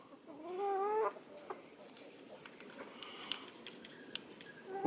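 Silkie chickens cluck close by, with one drawn-out warbling call first, then scattered soft clucks and chirps over quiet farmyard ambience.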